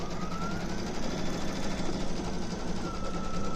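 A Brother Stellaire embroidery machine stitches out a small design, its needle chattering in a fast, steady, continuous rhythm close by with no talk.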